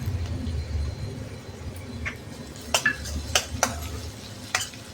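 Chopped tomato sizzles in hot oil in a pan while a spoon stirs it, with several sharp metallic clinks of the utensil against the pan.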